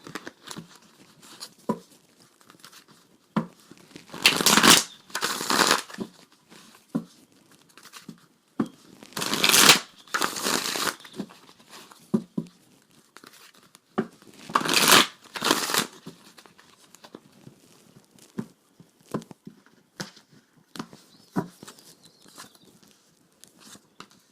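Tarot cards being shuffled up close, with bursts of riffling flutter about every five seconds and scattered soft taps and slides of cards between them, no voices.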